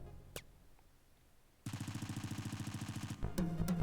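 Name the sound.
automatic weapon gunfire in a text adventure video game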